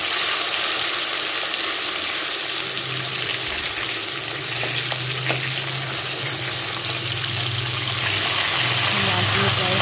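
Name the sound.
katla fish frying in oil in a pan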